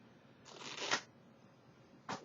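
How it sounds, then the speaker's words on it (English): A deck of playing cards is riffled twice, a longer close burst of flicking followed by a brief second riffle, soft and alone against a quiet room. "And you riffle the cards, and no force, anything like that."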